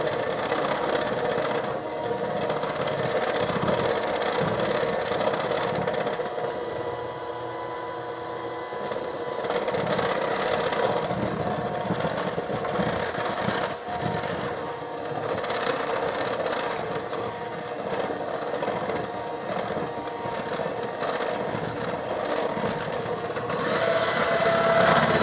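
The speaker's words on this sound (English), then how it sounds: "This is so loud. I'm going to finish mixing this" A loud electric mixer runs continuously through pumpkin walnut bread batter, its motor whirring and rattling close by without a break for the whole stretch.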